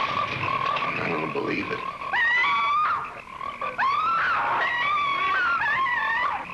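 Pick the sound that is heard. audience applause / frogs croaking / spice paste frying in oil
frogs croaking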